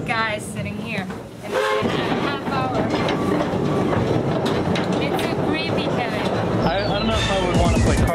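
A train from the 1960s runs along rails on a seven-kilometre oil shale line, giving a steady, loud rumble with rhythmic clatter throughout, joined by a voice in places.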